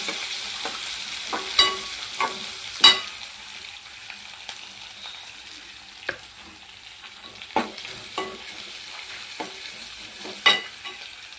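Onion and tomato frying in a pan, with a faint steady sizzle broken by scattered sharp clicks and taps of stirring, fairly quiet and close, no talk.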